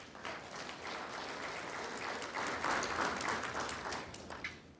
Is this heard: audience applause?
yes